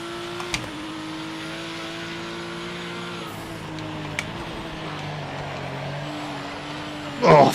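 A GTE race car's engine in a racing video game, its steady droning tone holding close and even, with a few brief clicks and a louder burst near the end.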